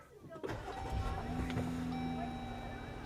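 A Jeep engine cranks and fires, then settles into a steady idle hum, close and fairly loud, with no talking.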